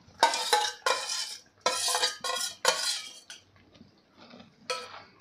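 Mashed urad dal being stirred into fried masala in a pot, the spoon scraping and clinking against metal in repeated bursts, close and fairly loud, quieter toward the end.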